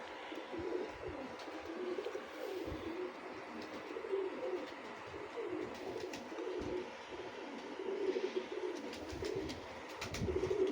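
Teddy pigeons cooing in a loft: soft, repeated low coos in overlapping phrases, steady throughout and fairly close, with no voices.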